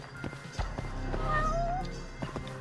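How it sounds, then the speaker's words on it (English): A cat meows in the Yakuza spinoff game Judgment, beside a garbage dump; one drawn-out meow rises and falls over game ambience with light footstep-like taps, fairly close and clear. "There's a kitty cat."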